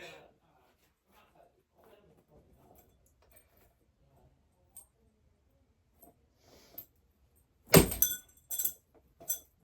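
A champagne glass in a bag smashed against a wall, a sharp loud crunching crack followed by a few smaller clinking knocks, with soft speech and quiet rustling before it.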